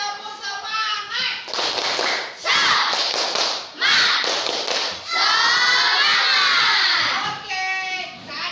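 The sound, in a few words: schoolchildren doing a rhythmic spirit clap chant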